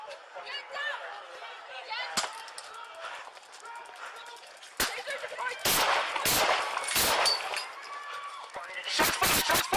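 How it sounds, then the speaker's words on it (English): Loud gunshots ring out during a police street pursuit, several sharp bangs spaced unevenly amid running footsteps and commotion, with a tight cluster of rapid shots at the end. "Shots fired, shots fired, shots fired"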